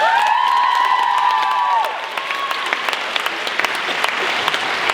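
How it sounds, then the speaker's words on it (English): A conference audience applauds a student speaker, dense clapping and some cheering mixed with lingering tonal sound early on, then steady broadband clapping with sharp individual claps throughout. "Please give a big round of applause to Mr."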